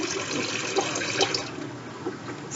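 Water runs steadily from a sink tap during handwashing, a soft close splashing hiss that continues with little change through the short stretch.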